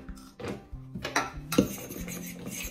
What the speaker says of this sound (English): Let's stir our chocolate into the dry ingredients.